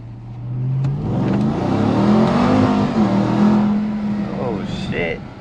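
A 2021 Ram TRX pickup accelerates hard, its engine note climbing and roaring loudly from inside the cab for several seconds before easing off, with a brief voice near the end.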